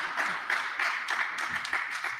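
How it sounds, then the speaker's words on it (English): Audience at the Africa International Trade Exhibition clapping together, a steady dense patter of many hands with a few louder claps standing out, sustained throughout. "Another round of applause, please"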